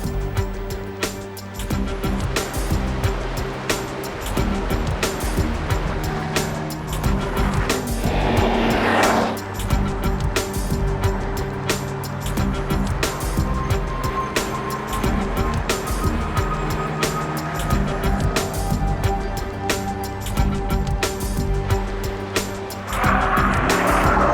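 A Jaguar XK Cabriolet engine drones steadily while driving, with a continuous rumble and occasional brief surges of road and wind noise.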